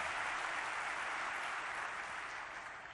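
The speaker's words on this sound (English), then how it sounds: "Please give them a warm round of applause." Applause from an audience of downtown Atlanta business leaders, a dense, steady wash of many hands clapping that holds for about three seconds and tapers slightly at the end.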